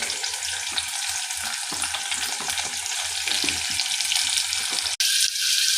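Onion fries in a pan with a dense, continuous crackling sizzle, close and fairly loud, and a brief dropout near the end.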